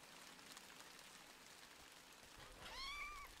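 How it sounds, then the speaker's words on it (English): A rabbit in the Minetest block-building game lets out a single clear cat-like meow near the end, rising then falling, over steady rain-like background hiss. "the rabbit meowed"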